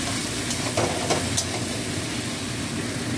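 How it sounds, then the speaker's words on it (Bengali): A chicken dish is stirred in a pan after raw oil is drizzled over it, giving a steady sizzling hiss with a few faint scraping touches and no voices. "কাঁচা তেল ছড়িয়ে এটা নেড়ে চেড়ে নামিয়ে নেবো"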